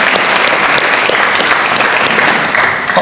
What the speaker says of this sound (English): Can I have another round of applause for that, please?